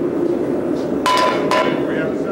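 A striker hits a set hammer held on the edge of an anvil at a blacksmithing conference demonstration, giving two sharp, ringing metallic blows about half a second apart over a low room hum.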